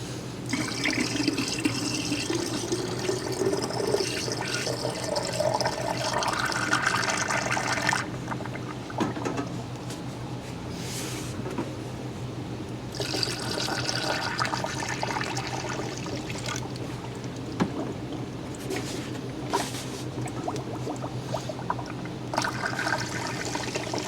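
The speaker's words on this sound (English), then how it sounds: "Let me fill this up with some water." Water runs steadily from a tap into a container during work on a car, a continuous splashing rush that holds for the whole stretch and changes in tone as the level rises.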